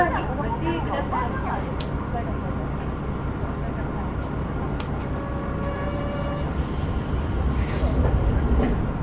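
JR Chikuhi Line KiHa 125 diesel railcar running between Imari and Karatsu, heard from inside as a steady low engine drone and rail rumble with faint tonal whines and occasional clicks, voices murmuring in the cabin.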